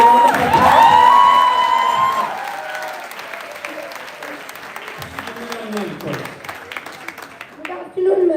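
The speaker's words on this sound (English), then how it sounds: "Can we have a round of applause?" A debate audience in a hall breaks into loud applause with whoops and cheers that peak early, then thin into scattered clapping and murmuring voices before a fresh burst at the very end.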